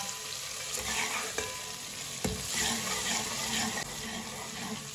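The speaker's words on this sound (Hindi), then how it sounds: "अदरक और लहसुन को लाजमी थोड़ा सा पका लेना" Ginger and garlic sizzle and crackle steadily in a hot pan, with occasional clinks and scraping of stirring over the constant frying hiss.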